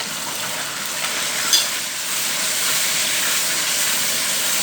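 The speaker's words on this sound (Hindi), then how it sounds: "ये मैंने मसाला इसमें डाल दिया। इसको अच्छे तरीके से मिक्स कर लेंगे।" Chicken korma frying in a pot as masala is stirred in, a steady loud sizzle and hiss running throughout with a brief scrape of the spoon near the middle.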